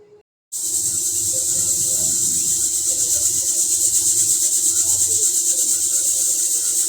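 A pressure cooker holding broken rice, fresh green peas, salt and water lets out a loud, steady, high steam hiss that starts abruptly after a short quiet moment and runs on without a break.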